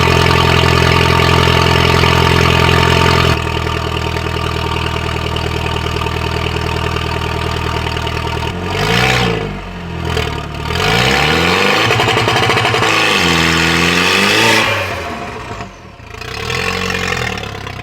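Turbocharged car engine fitted with a Holley coil, running at a steady loud idle before settling lower, then blipped through several sharp revs that rise and fall, close up with no talk.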